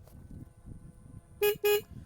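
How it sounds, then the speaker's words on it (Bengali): Two short, loud horn beeps from a 2026 Hero Xtreme 250R motorcycle sound in quick succession over a quiet low rumble, the tone thin and bright rather than deep. "আর এইটা হচ্ছে আপনার হর্নটা আমি আপনাদেরকে শুনিয়ে দিচ্ছি।"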